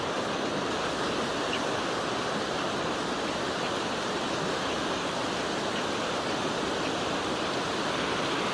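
Continuous wash of ocean surf on Lossiemouth East Beach in Moray, a steady broadband roar of breaking waves with no voices, fairly faint and even throughout.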